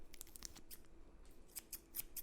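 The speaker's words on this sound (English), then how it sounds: "So I'm going to cut a little triangle." Scissors snip through a plastic piping bag filled with Boursin cheese, a series of crisp, close cuts in a quiet kitchen, with clusters of short snips separated by brief gaps.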